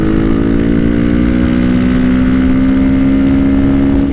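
A Honda CRF450R supermoto motorcycle idles steadily and loudly up close, holding a constant low throbbing drone with no change in pitch.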